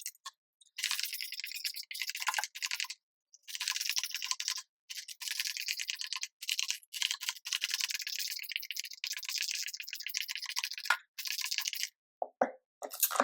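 A nearly empty aerosol spray can sputters during an orchid repot, giving a string of close, loud hissing bursts of uneven length, broken by short gaps and ending in a few weak, choppy spurts.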